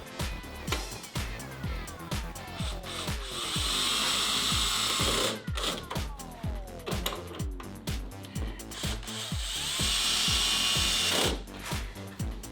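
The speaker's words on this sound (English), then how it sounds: "Grab your screws and screw them back in." A power driver whirs in repeated rising bursts with ratcheting clicks as screws are driven back into a smoked LED tail light on a 2016-2018 Chevrolet Silverado 1500, close and loud with no talk.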